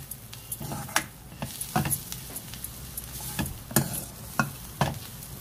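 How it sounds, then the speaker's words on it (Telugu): Ponnaganti leaves being fried in a pan for a Telugu-style tempering, with a steady sizzle broken by repeated scraping stir strokes at irregular intervals, close and moderately loud, with no talking. "ఇంకొంచెం సేపు వేగనివ్వాలి ఒక 2 మినిట్స్ ఇలాగా వేగించుకున్నాం అంటే చాలండి"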